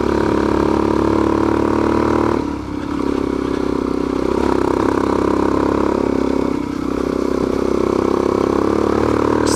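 A Suzuki DR-Z400S dual-sport motorcycle held in third gear and pushed up a steep dirt switchback, its engine droning loud and steady with a couple of brief dips in load, plus some clatter.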